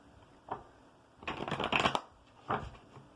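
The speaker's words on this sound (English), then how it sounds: "One more shuffle." Tarot cards are shuffled up close, a single soft riffle, then a longer fluttering run of cards, then another brief riffle.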